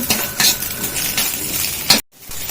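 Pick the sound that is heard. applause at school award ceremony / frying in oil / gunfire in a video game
frying in oil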